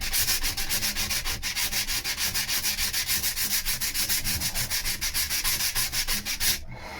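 Sanding wood on the underside of a boat deck, a steady rasping scrub in fast regular strokes that runs loud and close throughout, then stops abruptly near the end.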